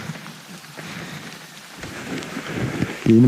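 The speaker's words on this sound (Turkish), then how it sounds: "Çok güzel yağmur yağıyor." Steady patter of rain on surfaces at a campsite at Çaçate Bay near Marmaris, soft and continuous, growing slightly louder toward the end, with no voices.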